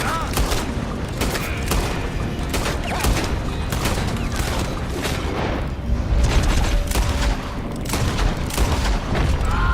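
Gunfire from a Red Dead Redemption 2 shootout, with repeated loud shots and booms packed tightly across the whole stretch, alongside talking.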